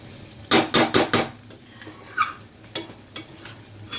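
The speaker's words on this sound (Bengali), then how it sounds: "তো দেখো মাংসটা কিন্তু এখনও কষানো হচ্ছে, দেখতেই পাচ্ছ।" Meat stir-fried in oil in a pan: a metal spatula scrapes and clanks against the pan in quick rhythmic strokes, with a faint sizzle underneath and no voices.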